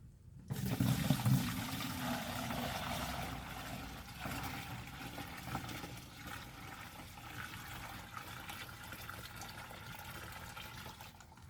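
Swamp water liquid fertilizer seeping and trickling through from a half-emptied bucket, a steady soft watery trickle that starts fuller and settles into a quieter continuous dribble.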